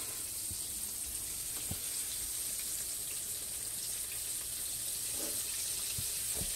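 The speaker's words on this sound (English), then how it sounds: "Let me show y'all what it looks like when it's frying." Chicken pieces fry in hot grease in a pan, giving a steady, faint hiss and sizzle with a few small pops and crackles and no talking.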